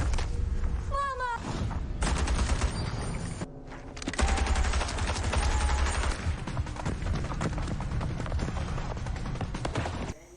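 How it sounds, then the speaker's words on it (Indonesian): Heavy gunfire in a war film scene with German soldiers: dense volleys of rapid shots and booms that run almost the whole clip, loud and continuous with a brief gap near the middle. "Setelah menembak salah satu tentara Jerman, kini Letnan Vakos diburu oleh mereka semua,"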